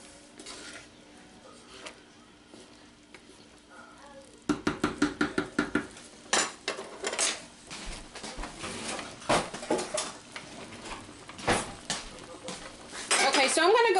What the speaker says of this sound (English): So now that it's come to a boil, I'm just going to give this a little stir.